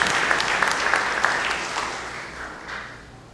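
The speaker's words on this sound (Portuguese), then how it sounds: "Gostaria que a igreja o saudasse com uma salva de palmas" A church congregation applauds during a theological week service, with a dense wash of clapping from many hands that holds steady and then slowly fades, filling the room with no clear voices.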